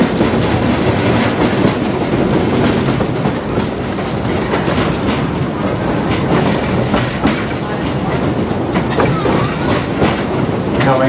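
Bally Hooley steam railway carriages rolling along the tracks in Port Douglas, Queensland, with continuous close clickety-clack of wheels over rail joints and occasional faint squeals.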